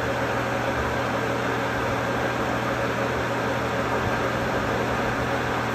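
A gear hobbing attachment cuts teeth on a large bevel gear, giving a continuous, steady, loud mechanical hum and whir with a fixed tonal drone and no breaks.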